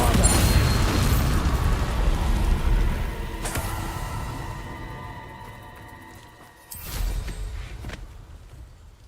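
A Bombarda blasting spell going off in Hogwarts Legacy: a loud booming burst that slowly fades, then a second sharp blast near the end, with little else around it.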